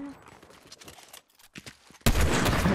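Gunfire in the video game Fortnite, faint scattered shots under talk that give way to a sudden loud burst of heavy fire at the end.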